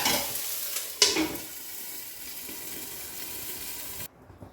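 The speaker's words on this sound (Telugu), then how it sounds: "ఇదిగోండి మిరపకాయలు వేగిపోయాయి" Green chillies frying in hot oil in a pan for a spicy chukka kura roti pachadi, a steady close sizzle with a brief stir or clatter near one second, cutting off abruptly near the end.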